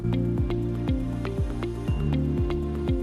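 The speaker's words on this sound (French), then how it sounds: "Donc là, je vais mettre de l'eau." Water poured or sprayed onto sprouting seeds in a home jar setup, giving a steady run of close, rhythmic dripping and squishing splashes with no talking.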